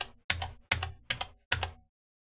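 Five sharp, evenly spaced clacks as an Ultimarc Goldleaf RGB arcade button is pressed, each a loud, close click with a short decay and nothing else around it.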